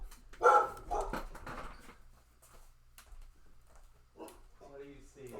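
A dog gives a few sharp barks and whimpers, loudest at the start, with quieter yips and speech-like vocal sounds following and a person talking toward the end.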